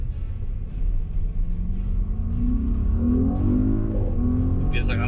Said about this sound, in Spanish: Empieza a ganar aceleración,